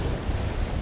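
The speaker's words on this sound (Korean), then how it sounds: "오늘 같은 날은 발밑에 파도가 굉장히 크게 치고 있기 때문에" Large waves crash and surge against the rocks at Cape Banks, Sydney, a dense, steady roar of surf close by with wind noise over the microphone, and no voices.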